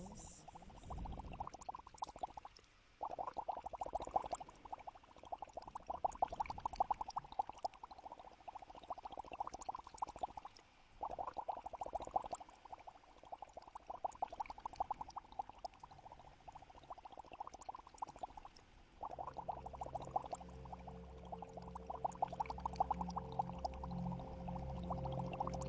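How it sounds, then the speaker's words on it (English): Bubbling water gurgles continuously for about half a minute, fairly faint and steady with small irregular pops, joined later by a low sustained tonal hum underneath; no talking. "Can you all hear bubbles?"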